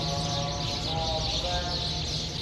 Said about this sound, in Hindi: कितनी प्यारी चिड़ियों की आवाज़ है चहचहाने की ना यार।